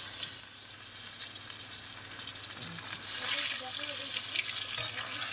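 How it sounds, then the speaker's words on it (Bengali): Sona bogi fish sizzles in hot oil in a home kitchen, a steady bright crackle that holds throughout, with faint background clatter and a few soft sounds underneath. "তো এখন মাছগুলো আগে ভাজি"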